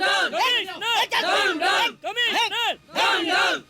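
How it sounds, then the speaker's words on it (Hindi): An angry crowd gathers outside in a Hindi action film, many voices shouting and bellowing together in loud, continuous waves with only brief pauses. "सर बाहर भीड़ बढ़ती जा रही है"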